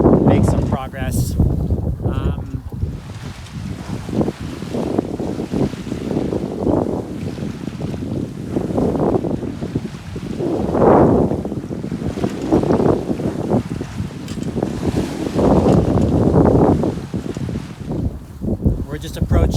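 Strong wind buffets a sailboat under sail with the motor switched off in winter on the Strait of Juan de Fuca, loud gusty rushing and water washing along the hull, with a voice talking over it.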